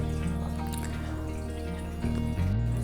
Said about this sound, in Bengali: হালকা হাতে বারবার জল পাল্টে চালটা ধুয়ে নিতে হবে